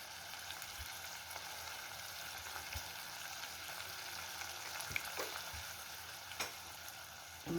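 Fresh curry leaves torn into a hot mutton pepper fry, giving a soft continuous sizzle and crackle with a few faint stirring taps, fairly quiet and close.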